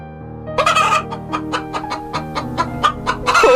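A cartoon chicken clucks in a quick run of sharp, evenly spaced calls over a steady background music bed, close and clear.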